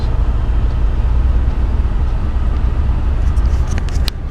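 A train rumbles past, a loud, steady, low roar that fills the whole stretch, with a few brief higher squeals near the end.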